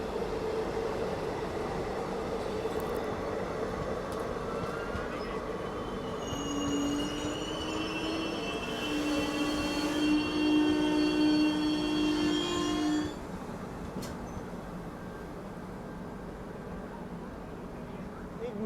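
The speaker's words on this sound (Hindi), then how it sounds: "ये जो ट्रेन गई ना अभी वैग 9 के साथ आगे, ये थी अंबाला भटिंडा पैसेंजर" An Ambala–Bathinda passenger train hauled by a WAG-9 locomotive rumbles past close by with steady rolling noise, and wheel squeal rises in the middle before the sound eases off.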